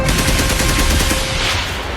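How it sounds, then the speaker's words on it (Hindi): Bursts of gunfire from the 26/11 Mumbai terror attacks, a loud, rapid, continuous rattle of shots that sounds like automatic weapons firing, with no talking. "गोलियां चली"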